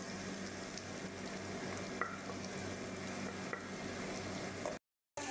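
Ginger, bay leaf and garlic frying in butter and oil while being stirred, a steady close sizzle with a few scraping stirs, ending in a brief silent cut.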